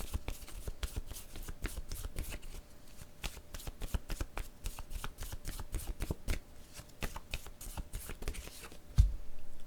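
Oracle cards being shuffled by hand in rapid bursts of crisp riffling flicks, close and clear, continuing steadily with a brief thump near the end.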